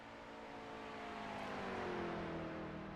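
A GT3 race car accelerating around the Spa circuit in the iRacing sim, a smooth rising engine whine that swells and then eases as it passes, faint and alone.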